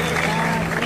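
Pageant crowd in Naranjal applauding a Miss Ecuador candidate, dense clapping with a steady tonal hum and a voice beneath.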